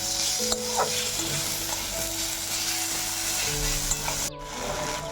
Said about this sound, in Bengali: টমেটোটা দিয়েও আমি একটু ভেজে নেব